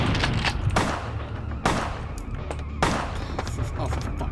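Gunfire in the video game Vampire The Masquerade Bloodlines, several sharp, loud shots spaced irregularly with reverberant tails, mixed with other game noise and a voice speaking.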